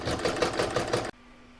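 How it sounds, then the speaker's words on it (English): An embroidery machine stitches a Christmas placemat design with a quick, rhythmic needle chatter for about a second, close and clear, then cuts off abruptly to a low hum. "I'm now going to pop that in my machine and stitch round number 3"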